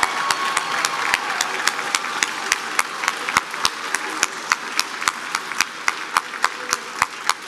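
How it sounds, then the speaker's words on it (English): Graduates at a pharmacy college commencement applaud their families, a sustained round of crowd clapping filling a large hall with sharp individual claps standing out throughout. "Graduates, give your family members a big round of applause in appreciation of all of their support."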